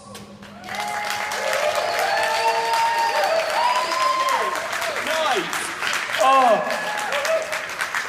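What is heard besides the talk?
audience clapping after a poem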